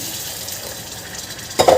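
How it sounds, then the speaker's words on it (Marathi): Plain water is poured into a pot of spinach pulao. A soft, noisy wash gives way to a brief, louder splash near the end. The sound is close and no one speaks. "आता इथे मी साधं पाणी घालत आहे."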